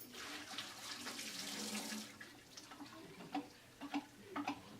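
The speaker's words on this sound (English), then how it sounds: "I'm going to dump out the water." Water is poured out of a film processing tank, a splashing, trickling rush for about two seconds that then gives way to a few sparse drips and clinks, close and fairly quiet.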